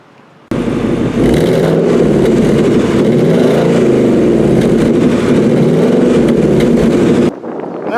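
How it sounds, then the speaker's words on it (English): A 2021 Ford Mustang Mach 1 exhaust set to quiet mode starts up and holds a loud, steady low rumble with slight swells in pitch, close by, then drops off abruptly near the end. "Let's listen to the exhaust in the quiet mode."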